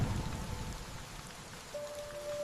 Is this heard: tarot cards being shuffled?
no